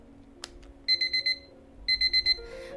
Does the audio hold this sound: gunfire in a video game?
no